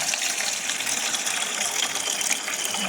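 Water pours steadily from a tap into a bowl of pork chops and chicken set to soak, a continuous close splashing gush with no talk.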